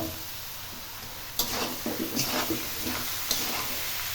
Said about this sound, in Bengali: চালটা আমরা ভালো করে ভেজে নেব